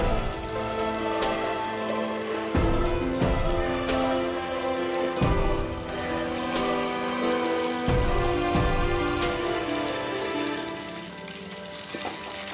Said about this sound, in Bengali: সর্ষের তেলটা গরম হলে আমরা মুইঠাগুলোকে ভেজে নেব